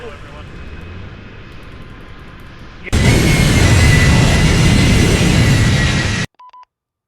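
Aircraft engine roaring in flight as a plane climbs airborne during a game operation, a loud steady wash of noise that cuts in suddenly and stops abruptly, following quieter background hum.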